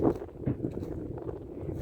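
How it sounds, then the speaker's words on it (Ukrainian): Steady low wind rumble buffeting the microphone, continuous throughout with a few louder gusts near the start. "Погода гарна, трошки вітряно."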